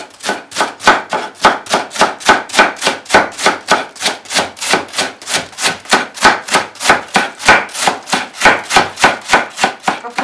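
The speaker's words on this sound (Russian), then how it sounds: "Капусту мелко порубим ножом." A knife finely chops cabbage for a Russian pie filling on a board in quick, even strokes, dozens of crisp close-up cuts in a steady rhythm.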